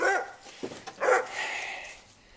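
Dogs bark at a squirrel up on a telephone pole: a few quick, sharp barks and yips, followed by a fainter, drawn-out whine, in a moderately quiet outdoor setting with no talking.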